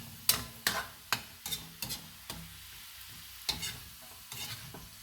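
Chicken feet adobo frying in a pan is stirred with a utensil, giving a series of sharp scraping clanks over a steady sizzle, roughly a dozen strokes at an uneven rhythm, close and clear.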